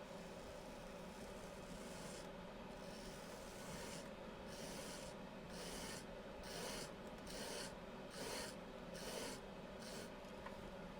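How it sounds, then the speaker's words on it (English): A woodworking tool is sharpened with a file in a workshop, the rasping strokes faint at first, then settling into a steady back-and-forth rhythm of about ten strokes. "why don't I sharpen this"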